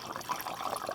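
Washer fluid pours into the windshield washer reservoir of a 2012-2018 Ford Focus, a brief, faint liquid trickle and splash heard close up.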